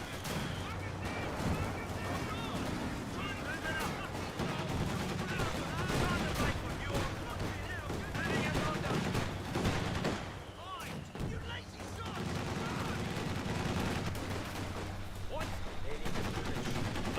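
Machine gun fire from a Company of Heroes 2 battle rattles on steadily under a dense wash of gunfire and combat noise, with a voice talking over it throughout.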